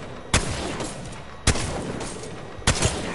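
Gunfire in the Apex Legends video game: three sharp, loud shots spaced about a second apart, each with a short decaying tail over a steady background of game noise.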